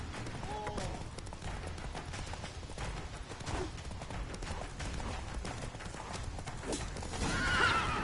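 A horse gallops hard in The Witcher 3, its rapid clip-clop hoofbeats driving steadily throughout, with a neigh early on and a louder whinny near the end amid game sounds.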